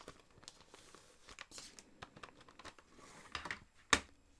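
Close crinkling and rustling of a resealable plastic bag holding a limited-edition album disc, with soft scattered crackles through the handling and a sharper snap near the end.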